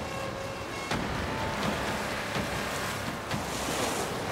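Ocean waves wash against the shore of a Kangaroo Island beach where sea lions gather, a continuous broad roar with a few sharper surges breaking through, wind buffeting the microphone throughout.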